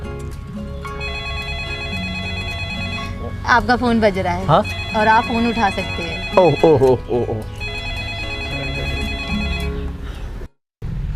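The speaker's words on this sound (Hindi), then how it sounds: "आपका फ़ोन बज रहा है।" A mobile phone ringtone plays nearby as a repeating melodic tone for most of the stretch, with a voice talking over it in the middle.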